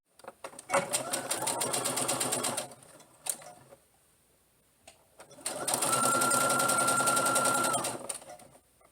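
A sewing machine stitches the shoulder seams of a tunic top together, running in two long, steady bursts separated by a short pause, close and loud with no talking.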